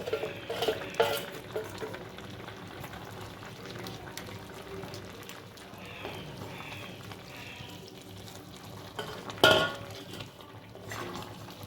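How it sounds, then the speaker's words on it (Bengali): Prepared tempering spices tipped into a hot pan for Bengali shukto, with steady scraping and stirring, light clatter of a utensil against the pan, and one sharper metallic clank near the end. "এবার যে ফোড়নটা আমি রেডি করে রেখেছিলাম সেই ফোড়নটা দিচ্ছি।"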